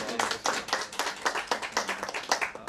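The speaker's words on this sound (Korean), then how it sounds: "그냥 박수." Applause from a lecture audience after a talk on blockchain, heard as a short burst of rhythmic hand clapping, fairly close and loud, with distinct individual claps and no speech.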